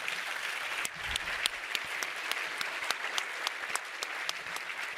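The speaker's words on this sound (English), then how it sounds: "Round of applause, please, for them." Applause for the panelists at a telehealth conference session, a sustained audience clapping with several distinct nearer claps cutting through, moderately loud and continuous throughout.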